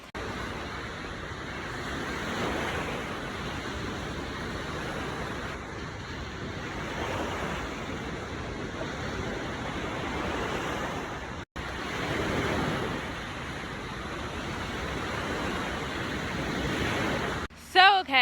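Lake Michigan style beach surf near Chicago, a steady close wash of breaking waves and rushing foam that rolls on without pause, broken only by a brief gap and a clatter at the very end.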